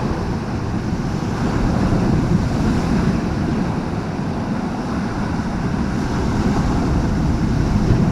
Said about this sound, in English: The ebb of that water going back once it's made short, ripping the rocks back with it, pulling them back into the water,